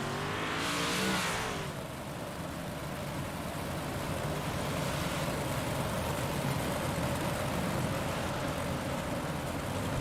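Big block modified race cars at Cedar Lake in iRacing roar continuously with dense engine drone, a louder car sweeping past near the start, then a sustained pack of engines under steady noise.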